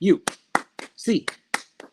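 Fans of UCLA Bruins basketball clap eight times in an even, measured rhythm. Each sharp clap is close and crisp, and a voice counts along between the claps.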